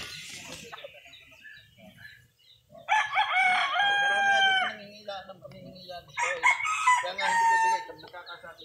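Chickens on a farm with a rooster crowing twice in long, loud cock-a-doodle-doo calls, nearby hens clucking softly in between.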